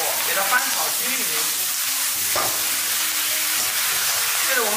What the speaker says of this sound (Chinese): 再把青菜也倒进来，然后开大火给它翻炒均匀